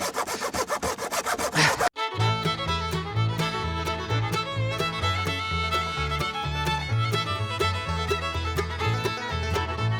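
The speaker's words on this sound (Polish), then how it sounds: "Teraz to piłką muszę." A hand saw cuts wood for a turkey perch, with quick rhythmic back-and-forth strokes up close for the first couple of seconds, then a dense, steady sound continues.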